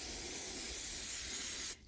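Flammable brake cleaner sprayed into a mower carburetor: one continuous close, loud aerosol hiss lasting nearly two seconds, then cutting off abruptly.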